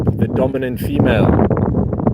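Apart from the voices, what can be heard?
wind blowing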